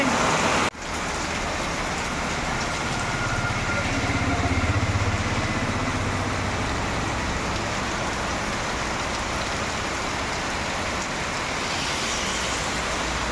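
Heavy rain pouring down at a house in Manuguru, a dense, unbroken roar that holds loud and steady for the whole stretch after a brief knock at the start, with no voices.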